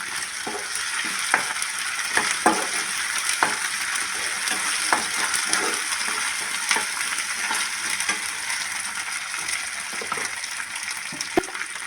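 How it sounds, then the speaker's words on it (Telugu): Ginger garlic paste fries in hot oil for a curry with okra and yogurt, a constant crackling sizzle dotted with light pops and occasional clicks of a spoon against the pan. "ఇప్పుడు నెక్స్ట్ అల్లం వెల్లిగడ్డ పేస్ట్ మంచిగా కొంచెం పచ్చి వాసన పోయే వరకు మంచిగా వేపుకుందాం"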